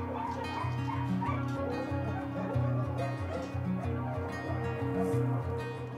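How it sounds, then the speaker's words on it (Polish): A dog at an animal shelter, fearful of other dogs, barks and yips in quick repeated bursts mixed with whimpers, loud and close, continuing throughout with no pauses. "trochę się boi innych psów, więc jest bardzo głośny i szczekliwy"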